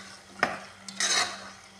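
Chicken with turmeric and salt cooking for a green chicken gravy, stirred in a pan: a sharp utensil scrape, a brief knock, then a short burst of sizzling and stirring, close by over a low steady hum.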